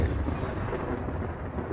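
A deep, rolling thunder rumble follows lightning in the video game Space Engineers. It is broad and moderately loud and lasts the whole short moment, with no speech over it.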